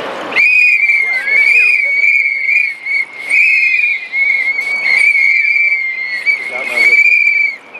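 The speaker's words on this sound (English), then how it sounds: "Now let's blow our whistles for Bradley Manning and for John" Crowd at an outdoor solidarity rally blowing shrill whistles together, a continuous loud piercing chorus lasting throughout with brief dips, dense and close.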